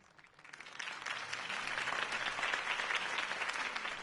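Crowd applause in a Batman video game on PS4 swells up from quiet within the first second into a sustained, dense wash of clapping that holds steady to the end, fairly soft overall.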